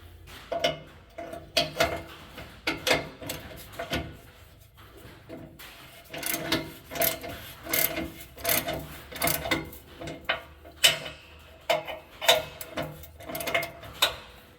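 A ratchet tightens a rusted exhaust pipe fitting under a vehicle in a series of close, rhythmic metallic clicking bursts with short pauses between strokes.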